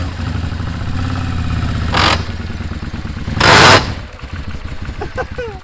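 A Yamaha XV 535 Virago motorcycle with a shaft drive fault, its running engine clattering with two loud knocking bursts that stand out above the steady drone, followed by faint squeaks.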